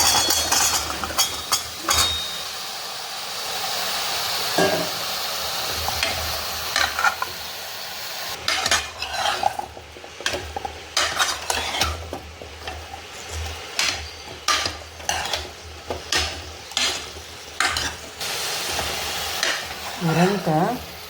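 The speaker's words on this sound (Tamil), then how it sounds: "முருங்கைக்காய் போடலாம்." Drumstick pods tossed into a pan with softened tomato for a coconut drumstick gravy, fried and stirred: steady close sizzling broken by repeated scraping stirs and clinks of the spoon against the pan, with no talking.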